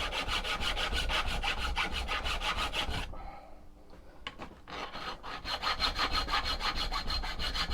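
A hand saw cutting the corners off a metal guard for a homemade Ka-Bar style knife: fast, rhythmic rasping strokes, a brief pause in the middle, then the sawing resumes, close and fairly loud.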